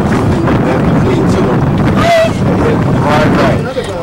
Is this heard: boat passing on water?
yes